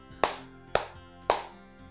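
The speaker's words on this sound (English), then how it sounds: "Simon Says clap three times." Three sharp hand claps in an evenly spaced rhythm, each crisp and close with a short ringing decay, no talking in between.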